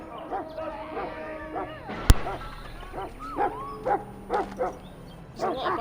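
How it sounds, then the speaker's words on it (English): A dog barks and yips in a room, a real pet joining barking from a Dragon Age Origins game on the TV; several short, moderately loud bursts spread over a few seconds, with a sharp thud partway through. "There's a lot of barking on the TV, and now all of a sudden my dog is going bananas"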